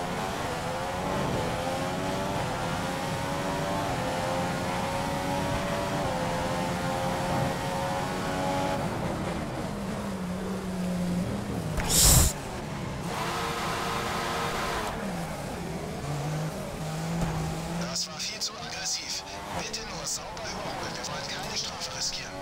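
An F1 2015 race car accelerates around the Circuit de Monaco, its engine whining loudly through rising and falling gear sweeps, with a sharp click partway through and a voice in German talking over it.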